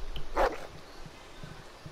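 A dog in The Walking Dead final season video game lets out a single brief whine, close and fairly clear, then only quiet low background ambience follows.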